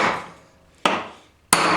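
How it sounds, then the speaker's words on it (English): A ball peen hammer strikes metal three times, each blow a sharp, close ringing crack that decays before the next, struck at an uneven pace. "no harder than I'm hitting this ball peen"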